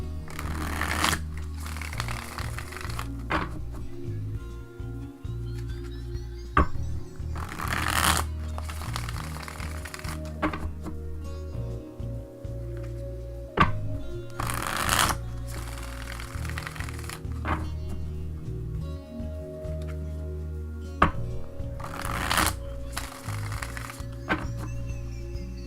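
A deck of tarot cards being shuffled repeatedly, with close riffling bursts and soft slaps and taps of cards between them over a low background hum.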